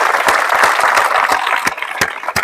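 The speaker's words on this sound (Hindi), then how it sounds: "बिल्कुल जोरदार ताली।" Loud, close applause with sharp individual claps standing out over the dense clapping, filling a short burst during a talk about Indian Navy training.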